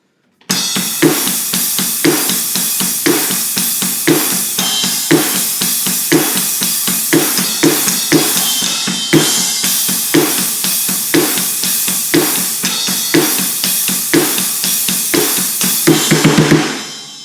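Drum kit playing the outro of a song, a steady loud groove of kick, snare and washing cymbals with regular accents and a denser cymbal build at the end.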